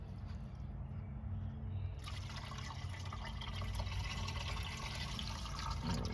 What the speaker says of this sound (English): So I'm gonna go ahead and spray a little extra water in here.